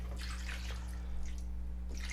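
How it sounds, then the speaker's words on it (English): Distilled water poured into a Levoit LV600HH humidifier to rinse it out: irregular splashing bursts over a steady low electrical hum, with no talk. "I'm gonna pour some distilled water here just to rinse this out"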